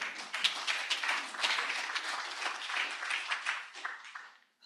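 An audience at a community emergency-preparedness meeting gives a warm round of applause, steady dense clapping from many hands that fades out near the end.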